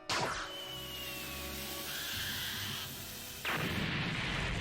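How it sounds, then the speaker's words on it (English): Bombs going off in the One Piece anime, with a sharp blast at the start, a sustained rumbling roar, then a second loud burst of explosive noise near the end. "Why do they explode now?"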